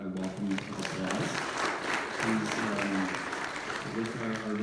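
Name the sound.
audience applause welcoming someone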